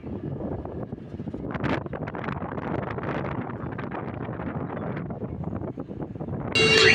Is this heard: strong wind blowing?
yes